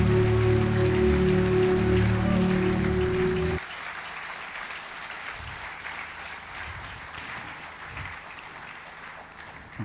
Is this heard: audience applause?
yes